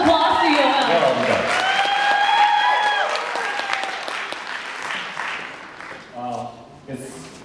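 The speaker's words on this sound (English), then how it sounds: "Round of applause to Yoel." A student crowd at an Indonesian cultural night claps and cheers as the club president is called on stage. The applause is loud and dense, mixed with shouts and a sustained musical tone, then thins out as voices emerge.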